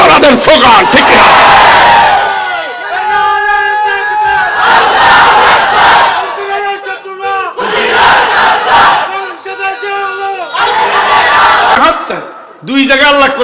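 A large crowd at a religious sermon gathering in Bangladesh chants a slogan in unison, loud roaring bursts of massed voices repeated in waves with brief pauses between them.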